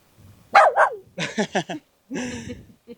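A dog on a rural animal property barks several times in quick, close, loud yips and bow-wows, with short pauses between bursts and no talk over it.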